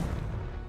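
A Confringo blasting spell goes off in Hogwarts Legacy as a single loud, sustained, rumbling explosion that fills the short moment with no voices over it.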